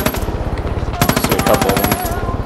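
Rapid sniper gunfire in a video game set on a Whitetail Mountains map, with loud rhythmic shots, one burst at the start and a denser, louder volley from about the one-second mark, close and dominating.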